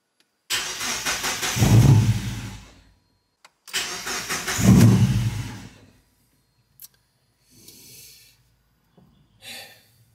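A Mazda MX-5 drift car running aftermarket Polish engine management cranks with difficulty. Two long whirring starter bursts of about two seconds each are followed by shorter, weaker cranking attempts, with silence in between.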